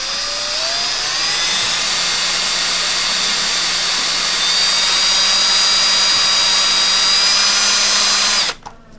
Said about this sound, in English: You also don't want your bit to walk, so you gotta move real slow until you get your starter hole drilled.